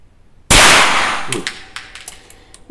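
Single sharp shot from an AR-7 survival rifle fired without a magazine, a loud crack with a decaying echo, then faint clicks and small handling noises.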